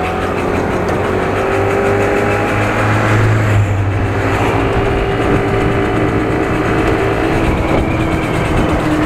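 A Yamaha mini motorcycle engine runs steadily and close by, its buzzing drone rising slightly in pitch as it revs up before settling back to a constant hum.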